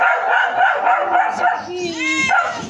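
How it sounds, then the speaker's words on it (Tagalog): Dogs at home bark and yip with whining, high-pitched tones during hot weather, close and loud, while a person talks over and between the barks. "Pasensya na po kasi may mga aso tayo dito."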